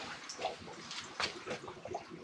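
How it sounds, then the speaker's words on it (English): Soft splashing and trickling of water draining from a water heater through a hose toward a sump pump, a steady watery wash with small gurgles, fairly quiet and close. "I can hear the water running out"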